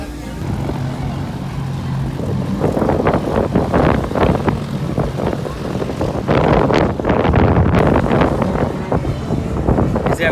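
Strong wind buffets the microphone in loud rumbling gusts throughout, a steady roar with heavier bursts, faint voices occasionally underneath.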